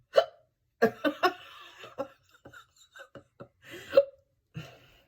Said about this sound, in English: Where are these hiccups coming from?